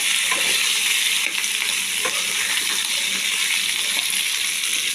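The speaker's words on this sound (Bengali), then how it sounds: "আলুগুলো সামান্য একটু ভেজে নেব" Potatoes fry in a pan, giving a loud, close, continuous sizzle with faint crackles and light stirring knocks throughout.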